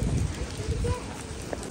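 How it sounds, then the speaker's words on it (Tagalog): Heavy rain pours steadily outside a Costa café, a dense continuous wash of noise with a few louder drops, while people talk quietly nearby. "Tingnan nyo, sobrang lakas ng ulan."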